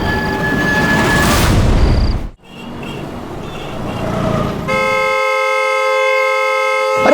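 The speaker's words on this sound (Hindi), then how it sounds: "अरे कौन है ये नॉन स्टॉप हॉर्न बजा रहा है?" Loud traffic rumble fades in Indore, then a vehicle horn blares continuously for the last few seconds, a steady unbroken honk close by.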